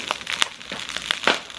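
Package being torn and opened by hand in a home kitchen, a short burst of sharp crinkling and rustling plastic, close and fairly quiet, with several quick crackles.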